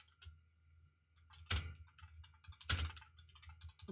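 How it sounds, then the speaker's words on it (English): Sparse keyboard clicks from a computer keyboard during a gaming podcast recording, mostly soft and close, broken by two louder, sharper clacks over a quiet background, with no talking. "Sorry, I was typing this."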